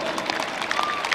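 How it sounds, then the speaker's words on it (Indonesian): Dense, steady applause fills a large hall at a Bung Karno commemoration event, continuous and loud throughout. "kita beri tepuk tangan yang paling meriah"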